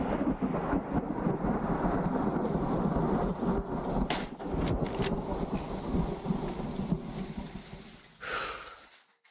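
Thunder and heavy rain in the hunting game Way of the Hunter, a dense, loud rumble with steady rainfall and a few sharp crackles, easing off at the close.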